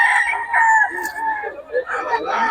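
Young gamecock stags crowing at a rooster farm in Bocaue, several overlapping crows close by, rising and falling in repeated calls with faint voices in the background.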